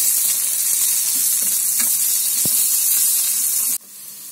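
Garlic and pirandai (adamant creeper) sauté in hot oil with a constant close hiss and crackle, a few soft stirring taps in between. The sizzle drops away abruptly near the end.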